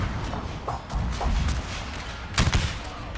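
Massed musket volleys in a Total War Shogun 2 American Civil War battle, a ragged crackle of gunfire rolling on with heavier thumping bursts, the loudest volley coming near the end.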